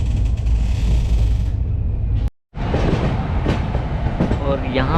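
Saharsa clone Humsafar passenger train running on rails, a loud, steady rumble and rattle of wheels on track with a short sudden drop to near silence midway before the roar resumes.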